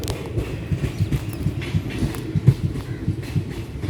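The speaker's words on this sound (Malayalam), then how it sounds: "ഇത് ട്രിവാൻഡ്രത്തോട്ട് പോകുന്ന ട്രെയിനാണ്" A Trivandrum-bound train rumbles past nearby with a rapid, rhythmic clatter of wheels over rail joints, steady and fairly loud.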